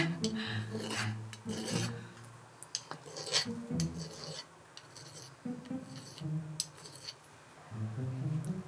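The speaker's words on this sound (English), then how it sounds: "It's going to need quite a bit of filing." A file rasps back and forth across a soft pewter metal waffle in uneven close strokes, with scratchy grinding passes and brief pauses between them.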